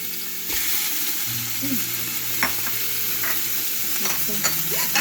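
Onions and tomatoes sizzling in a mix of olive and vegetable oil in a Ninja Foodi, a steady close crackle with stirring scrapes and small pops.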